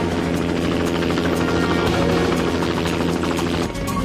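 A loud, steady helicopter drone with thudding rotor chop as the helicopter arrives, continuous and close throughout.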